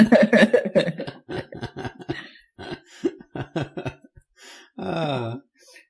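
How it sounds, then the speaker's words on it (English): Someone coughs repeatedly in a phlegmy, rough way, with a few grunting, throaty bursts and a final long gravelly hack near the end. "he's coughing up stuff"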